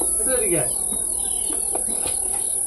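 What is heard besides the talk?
crickets chirping in the background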